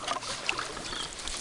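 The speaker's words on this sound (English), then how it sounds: "This is Mommy, who's paddling right now." A canoe being paddled on a lake in Quetico Provincial Park, with quiet splashes and water trickling off the paddle in soft, irregular strokes close by.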